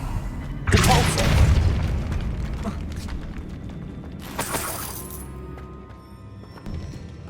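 A Depulso spell strikes in Hogwarts Legacy as a heavy, booming burst that rumbles and decays over several seconds, followed by a second, sharper crash and softer clattering debris.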